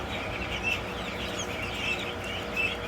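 A group of super tiny chickens cluck in a busy coop, their soft calls scattered under constant rustling and background noise, nearby.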